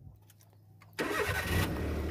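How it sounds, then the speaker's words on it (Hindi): A car engine cranks briefly and catches, jumping from quiet ticking into a loud, steady idle rumble that carries on close by. "गाइस मैं भी करता हूँ इस गाड़ी को स्टार्ट,"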